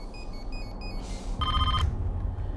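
A telephone rings and goes unanswered in a palace setting, giving short repeated electronic ring bursts, with a louder, lower-pitched burst in the middle, over a steady low hum; no voices.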